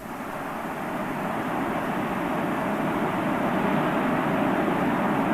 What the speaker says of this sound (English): Liftoff of the Space Shuttle Endeavour